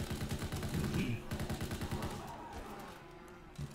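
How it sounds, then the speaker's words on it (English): Rapid automatic gunfire from Call of Duty WW2 Zombies, dense bursts of shots rattling continuously for most of the clip before thinning out near the end. "Jesus, I've been shooting his freaking rocket thing."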